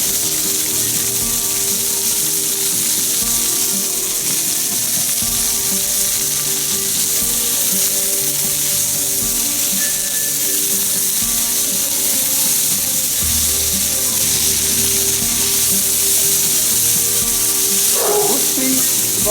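Onions fry in a hot cast iron pan for a fish curry, a loud steady sizzle that runs throughout, with occasional stirring scrapes and a brief clink near the end.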